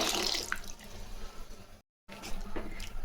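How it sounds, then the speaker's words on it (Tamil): Water pours and splashes steadily into a cooking pot of sambar, close up, with a brief silent gap midway before the pouring resumes. "தேவையான தண்ணியும் சேர்த்துக்கலாங்க"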